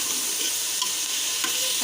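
Beef with garlic-ginger paste being stir-fried for dal gosht gives a dense, steady, close sizzle with faint stirring knocks throughout a brief stretch.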